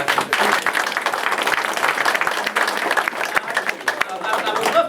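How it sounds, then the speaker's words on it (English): Applause from attendees at a campaign awayday meeting, a sustained burst of clapping from a room of people close by, with some chatter and a voice or two underneath. "Applause to Keith."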